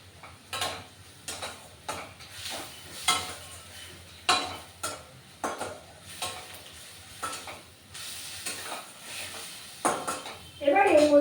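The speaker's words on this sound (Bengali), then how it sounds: "এবার চিংড়ি মাছটা একটু নাড়াচাড়া করবো।" Prawns are stirred in a frying pan, giving a string of short scraping, clinking strokes against the pan over a low sizzle, repeated roughly every second in a steady rhythm.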